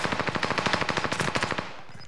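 A rapid burst of automatic gunfire in the Call of Duty: Modern Warfare video game, about twenty evenly spaced loud shots over two seconds, then trailing off.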